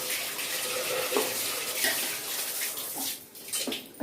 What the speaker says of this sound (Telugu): రైస్ వేసుకున్న తర్వాత మనం వాటర్ యాడ్ చేసుకోవాలి